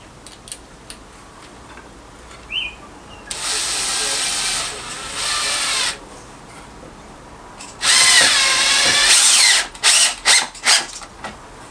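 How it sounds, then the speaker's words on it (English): A power drill driving two screws into a rough wooden workshop project, heard as two long close whirring bursts followed by several short trigger pulses, with quiet pauses between. "Just putting these 2 screws in"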